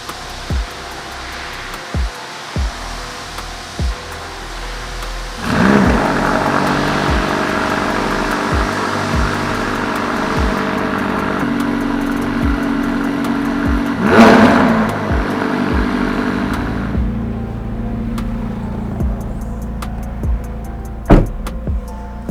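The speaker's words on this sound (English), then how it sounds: "I think we need to get a cold start." McLaren supercar engine on a cold start, with an idle hum punctuated by ticks, then a loud surge around six seconds, another rev swell near fourteen seconds, and a settling idle.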